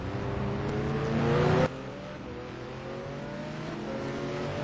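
Touring race cars at Anderstorp roaring along the straight, engines rising in pitch as one pulls by, then cutting off abruptly into a quieter, steady drone of more distant cars.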